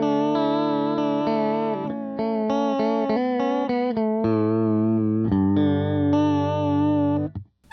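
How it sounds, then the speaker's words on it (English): Electric guitar played through a vibrato pedal, sustained chords and single notes with a steady wavering pitch shimmer, close and loud with no talk, the last chord fading out at the end. "this one's called vibrato."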